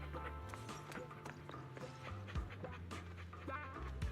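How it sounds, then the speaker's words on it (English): A dog pants in a video game, a soft breathy rhythm of quick huffs running steadily over a busy background of game ambience and faint clatter. "Oh, that's a dog."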